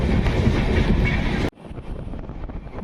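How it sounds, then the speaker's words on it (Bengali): The Puri–Shalimar Dhauli Express gathers speed after leaving Sakshigopal station, a loud roar of wheels and wind that suddenly drops to a muffled rumble with light clickety-clack partway through. "আমাদের ট্রেন ছেড়ে দিল সাক্ষীগোপাল থেকে"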